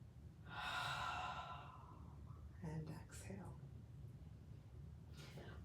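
A deep breath in and a slow breath out during a vigorous yoga flow, the inhale a soft airy rush, then a quieter breathy exhale with faint sounds over low room hum.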